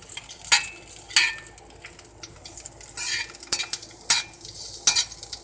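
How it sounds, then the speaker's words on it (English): Garlic cloves simmer in olive oil in a pan with a light sizzle, nearly covered by repeated sharp clinks and scrapes of a utensil against the cookware. "we're gonna take the garlic cloves and have it simmer there on the olive oil"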